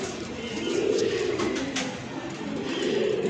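A pigeon coos softly in a low, throaty, rolling murmur, close by, with faint background noise.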